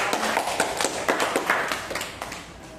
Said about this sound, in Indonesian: Tepuk tangan kita langsung untuk Valeska.